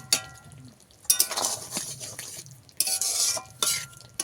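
Spinach curry being stirred in a pan, vegetarian palak dish: bursts of scraping and light clinks of a spoon against metal come in irregular strokes with quiet pauses between, close and fairly clear, with no talking.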